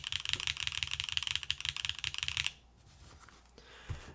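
Rapid, steady typing on a mechanical keyboard with an aluminum plate, GMK keycaps and stock switches, close and crisp with clacky keystrokes for about two and a half seconds, then a quiet pause with a faint click near the end.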